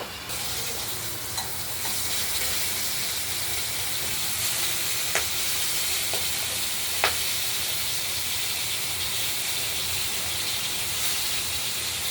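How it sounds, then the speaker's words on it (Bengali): Pieces of boal catfish fry in hot oil with a steady, dense sizzle and hiss that holds through the whole stretch, broken by a few faint clicks of the pan. No one speaks. "মাছগুলো আমরা এপিটোপিট করে ভেজে নিচ্ছি"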